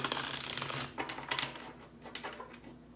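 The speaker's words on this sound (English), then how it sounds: "I'm just going to do a couple more shuffles and a cut" Tarot cards are shuffled and cut close by: a dense riffling flutter for about a second, then lighter irregular papery flicks and taps, fairly quiet and with no talking.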